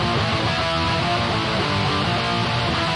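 A dense, loud distorted rhythm guitar from a Kemper amp modeler chugs continuously without corrective EQ, carrying a harsh, fizzy digital top end.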